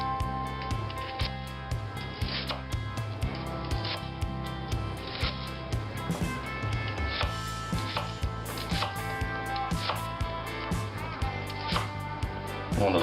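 Small paring knife cutting mushrooms on a board, rapid close knife taps in an even rhythm, fairly quiet, continuing throughout.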